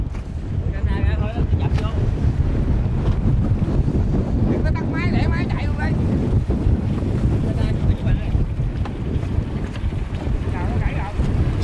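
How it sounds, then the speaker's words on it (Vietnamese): Strong wind buffets a small boat out in the fields during a rainstorm, roaring steadily and loudly against the microphone with rushing water underneath and brief voices. "bớt gió hơn nãy rồi đó."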